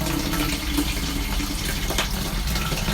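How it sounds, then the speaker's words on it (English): Tap water running steadily into a narrowboat's toilet cassette to rinse it out, a continuous close, loud rushing and splashing flow with no voices. "Let it fill up with a little bit of water just to move any pee, paper and poo that might be in there."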